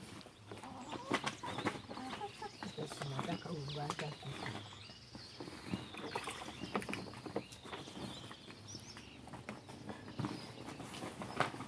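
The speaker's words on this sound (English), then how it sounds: "The chickens are celebrating." Chickens on a Kenyan dairy farm cluck and squawk repeatedly, fairly close, mixed with steady farmyard noise and a person talking throughout.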